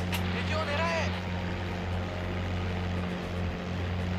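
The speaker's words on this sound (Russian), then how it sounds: "Пора сажать истребителя." Propeller fighter planes coming in to land in the naval air combat game Pacific Storm, a steady droning engine hum with tonal bands running throughout, a faint whistling sweep near the start.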